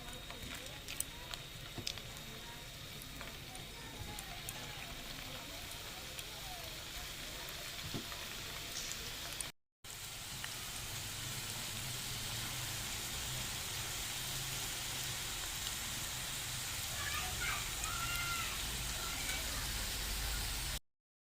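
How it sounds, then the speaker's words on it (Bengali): Semolina gulab jamun balls frying in hot oil, a steady hiss and crackle of sizzling that continues for many seconds after a short break, with a voice speaking over it. "এবার এগুলোকে ভেজে নেব। তেল গরম হয়ে গেছে, ভেজে নেব।"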